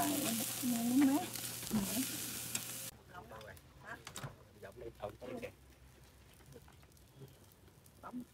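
Food grills outdoors at a family Father's Day meal, its soft crackling sizzle coming through after a few seconds of voices, then continuing quietly with scattered pops.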